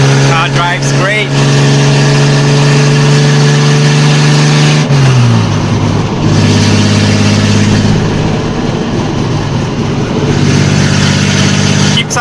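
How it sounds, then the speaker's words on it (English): A loud, raw engine drones steadily from inside a 1971 Datsun 240Z driven with no exhaust fitted, shifting pitch as it changes gears, with a rough unmuffled rasp throughout. "I'm driving the car on the road legally without exhaust"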